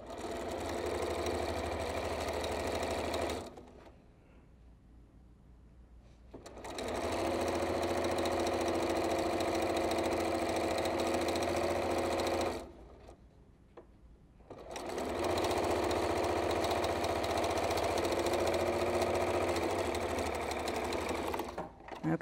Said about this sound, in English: And I'm going to sew with 1/4 inch seam allowance.